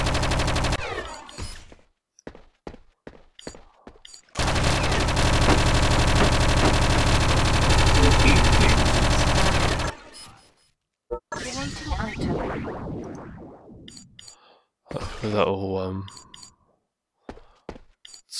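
Sustained automatic turret gunfire in the video game Project Eden, a loud dense burst lasting several seconds, bracketed by shorter shots, whooshes and scattered game effects.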